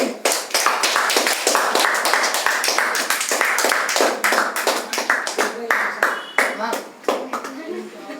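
Children and adults clap at a birthday celebration in a fast, rhythmic run of close, sharp handclaps lasting several seconds, with voices chanting and talking over them.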